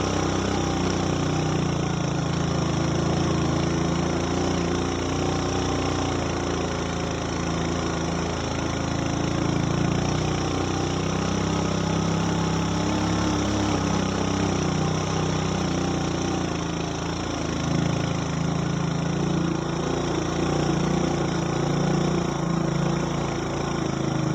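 A motorcycle engine labors steadily uphill on a winding mountain road to Puncak Suroloyo on Mount Ungaran, via Nyatnyono, with a constant, fairly loud drone and no speech throughout.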